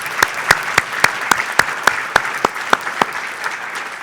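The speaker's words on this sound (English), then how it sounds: "one more round of applause for all three of these guys." An audience at a forum's pitch-style competition at the Europe Liberty Forum 2022 gives a round of applause, with sharp, evenly spaced claps standing out clearly above a lighter wash of clapping, close and steady throughout.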